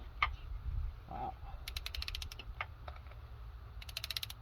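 A torque wrench ratchets bolts down on a Honda engine to a final 49 foot-pounds: two close, quick bursts of sharp metallic clicking with a few softer knocks between, heard alone.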